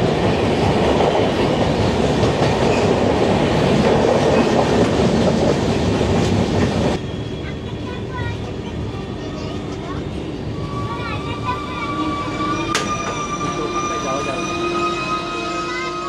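The Tamralipta Express runs from Howrah toward Digha, its loud steady rumble and rattle filling the first seven seconds before dropping to a quieter cabin hum with faint tonal whines and a brief sharp clack.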